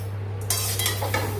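Spiced fried puffed rice with peanuts and potato poured out of a pan in a few short clattering bursts, with faint dry rustling over a steady low hum.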